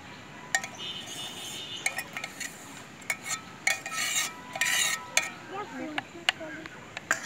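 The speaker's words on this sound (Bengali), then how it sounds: "এইবার চামচটা দিয়ে নেড়ে দেন।" A spoon stirs raw mango pickle coated in mustard oil. Repeated metallic clinks and scrapes against the container come in irregular bursts, close by, over a soft background rustle.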